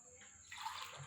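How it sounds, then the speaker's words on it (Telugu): Water is poured into a cooking pot of onions and spices for egg biryani, a quiet, steady splashing pour that swells midway and carries on alone. "వాటర్ వేసేస్తున్నాము ఇప్పుడు."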